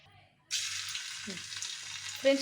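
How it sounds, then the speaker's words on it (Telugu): Paneer pieces hit hot oil and burst into a loud, close sizzle that holds steady as they lightly fry, with a faint voice underneath. "ఇట్లా ఆయిల్లో లైట్గా ఒక 1 మినిట్ వేయించుకుందాం"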